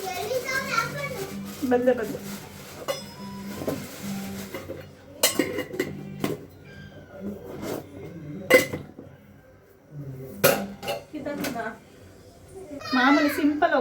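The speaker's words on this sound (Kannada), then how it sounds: "ತುಂಬ ಸೌಂಡ್ ಮಾಡ್ತಾರೆ ಗೈಸ್ ನನ್ನ ಮಕ್ಕಳು" Young children shouting and chattering noisily at home, their voices coming in bursts alongside clinking dishes and utensils as cooking goes on in a kitchen; an adult speaks at times.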